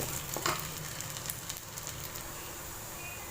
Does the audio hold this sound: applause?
no